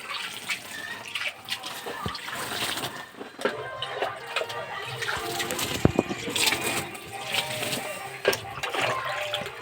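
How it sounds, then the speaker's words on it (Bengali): Hot water is poured over a pile of Boro paddy rice seeds being set to sprout, a continuous splashing, trickling pour with some voices speaking in the background. "সব গরম জল দিচ্ছে বাবা"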